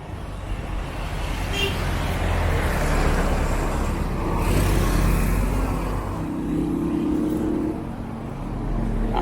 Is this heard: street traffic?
yes